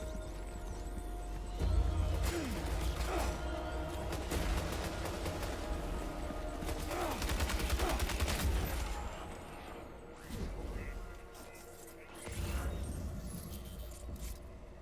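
Video game gunshots fired at ghosts on a PS5 Pro, heard as clusters of sharp shots and bursts over a steady low rumble, with brief pauses between volleys.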